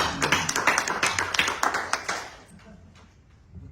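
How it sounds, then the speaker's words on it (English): A small audience gives a short burst of scattered clapping, a few seconds of quick irregular hand claps that thin out and fade, heard fairly close in a room. "Let's give Henry Ford a round of applause."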